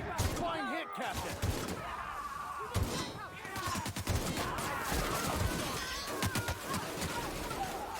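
Gunfire in The Outer Worlds video game, a quick series of sharp shots and impacts in a busy game mix, with voices talking over it throughout.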